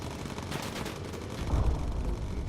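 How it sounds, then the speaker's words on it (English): Gunners aboard a bomber in Bomber Crew shoot incendiary rounds at enemy fighters, a rapid crackling burst of gunfire that swells into a heavier low rumble partway through, loud and close. "We'll go ahead and hit their incendiary rounds, try to take these fighters out quickly."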